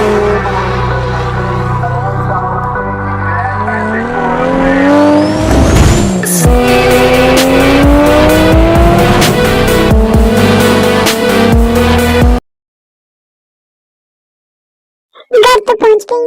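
A car driven hard and fast, with a rising engine note and tire squeal running steadily for about twelve seconds, then a sudden cut to silence before a brief burst of sound near the end.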